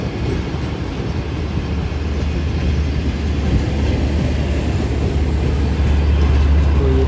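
Shalimar Express passenger train rolling through Drigh Road railway station, a loud continuous low rumble of wheels and carriages passing close by, steady throughout with no voices.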